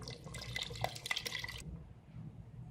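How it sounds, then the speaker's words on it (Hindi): Coconut milk is poured into a pot of tender cooked mutton curry, a close, quiet liquid splashing and dribbling for about a second and a half that then stops, leaving low background hum. "अब इसके अंदर 1 कप कोकोनट मिल्क डाल के"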